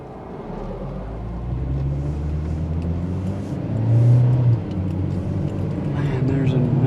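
A Jeep speeds along a road past a stopped car, its engine rumble and tyre roar swelling as it nears and then fading, with someone talking over it.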